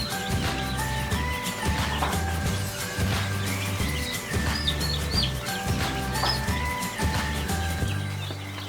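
Chicks in a poultry brooder give high, thin chirps in scattered bursts over a steady, layered background drone, moderately loud and close.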